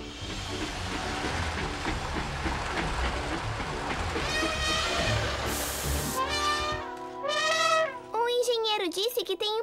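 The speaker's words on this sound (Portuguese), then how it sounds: "O trem está voltando!" Circus mechanical train from an animated children's series coming back into the station, with a rolling rumble that fades before hiss-like bursts and rising horn-like whistle tones; a voice speaks over it.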